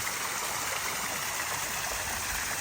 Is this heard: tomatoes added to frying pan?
no